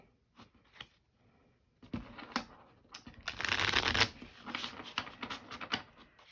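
Playing cards are shuffled by hand: scattered soft flicks build into a loud, fast riffle, followed by lighter tapping and sliding of the deck.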